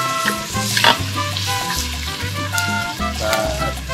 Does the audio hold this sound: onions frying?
yes